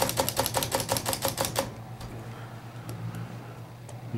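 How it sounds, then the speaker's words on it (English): A 1936 Underwood Universal typewriter clatters in a quick run of crisp mechanical clacks, then a few sparse, softer taps of the spacebar knocking against the table, close and dry. "So the spacebar does work, it hits the table before it can advance."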